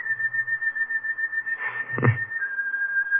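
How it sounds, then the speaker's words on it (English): Someone whistles a tune in a 1945 radio suspense drama, a steady sustained whistled note heard alone, with a brief muffled thump in the middle. "Like somebody whistling it."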